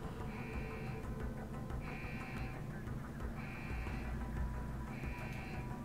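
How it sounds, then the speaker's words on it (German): A periodic electronic alarm sounds in the video game Deus Ex, with a steady tone pulsing on and off roughly every 1.5 seconds over a low, rumbling background. "Na, wie lange geht denn der Alarm noch?"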